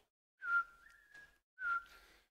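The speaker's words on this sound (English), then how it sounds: "I'm trying to wet my lips that I might whistle." A person whistles two clear notes, the first sliding and held for close to a second, then a short pause before a second gliding tone; close, fairly soft and alone, with faint breathy noise around each note.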